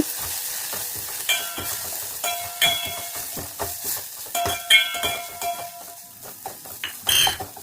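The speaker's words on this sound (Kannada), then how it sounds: "ಇವಾಗ ಗ್ರೈಂಡ್ ಮಾಡಿಕೊಂಡಂಥ ಮಸಾಲೆಯನ್ನು ಸೇರಿಸಿಕೊಳ್ಳೋಣ" Freshly ground masala goes into a hot pan with chillies and curry leaves, sizzling loudly while a utensil scrapes and stirs in uneven strokes, close up and with no talk.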